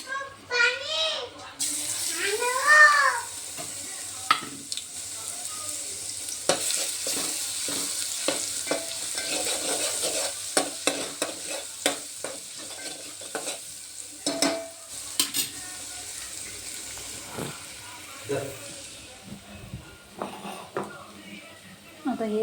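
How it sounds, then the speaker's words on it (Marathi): Garlic and ginger hit hot oil in a pan for a spicy mutton curry, giving a continuous soft sizzle with scattered scrapes and clinks of stirring, while voices talk intermittently over the frying. "आता लसूण अद्रक टाकून घेऊ"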